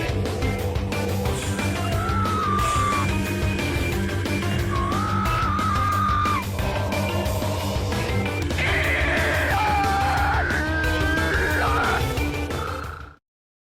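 Screeching, whinny-like wails and groans sit inside a dense, loud orchestral final boss theme from a JRPG, rising and sliding over the continuous music before it cuts off abruptly.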